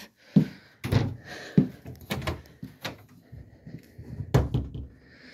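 A door in a 2022 Forest River Sabre 37FLL fifth-wheel RV opens with a series of close thumps, knocks and rattles spread unevenly over several seconds, with faint background noise between them.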